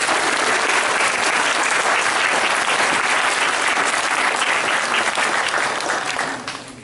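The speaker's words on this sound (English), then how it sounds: "let's give our victim a big round of applause" An audience at a Parents Day event gives a big round of applause, dense and loud continuous clapping that holds steady for several seconds before tapering off at the very end.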